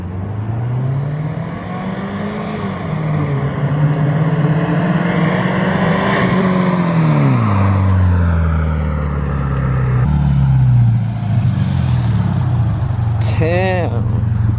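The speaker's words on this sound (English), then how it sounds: "About to get some drive-by shots right now." A Subaru Impreza 2.5 RS with a muffler delete drives past, its loud raspy exhaust note rising and falling as it approaches and goes by, with a brief high whine near the end.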